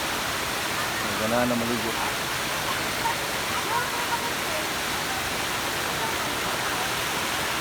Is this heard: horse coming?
no